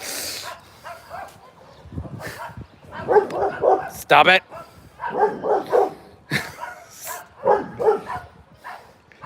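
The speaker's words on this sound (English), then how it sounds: "That's the neighbor's dog." A neighbour's dog barks in repeated loud bursts from across the street, with a few yips mixed in, while someone speaks briefly nearby.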